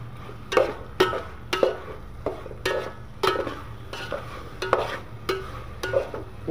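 Boiled, lightly fried chicken pieces stirred in a pot for biryani: a regular series of sharp spoon scrapes and clinks against the metal, roughly one per second, over a low background sizzle.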